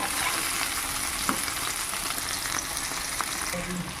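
Pumpkin pieces fry in a covered pan with a dense, even sizzle that holds loud and close, broken by a couple of soft clicks, before easing slightly near the end.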